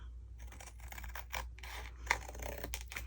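Scissors trim cereal-box cardboard in a few close, quiet rasping snips and rubbing scrapes, with a slightly sharper crunch midway.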